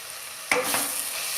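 Chicken in a pan, just uncovered after five minutes of cooking, gives off a soft steady sizzle that follows a quick clatter of the lid, with no talking.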